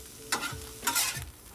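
Two spatulas scrape and toss chicken and vegetables on a 22-inch Blackstone griddle, giving two sharp metal strokes over a quiet, close sizzle.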